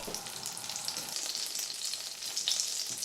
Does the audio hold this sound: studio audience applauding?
no